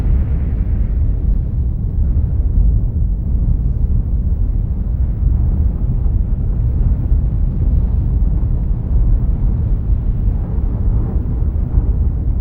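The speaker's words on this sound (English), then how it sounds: "Mount St. Helens erupted, with an explosion heard 700 miles away." Mount St. Helens volcanic eruption explosion: a loud, deep, continuous roar with heavy low rumble lasting throughout, steady and unbroken, with no voices.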